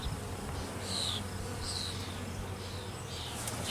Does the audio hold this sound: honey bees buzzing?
yes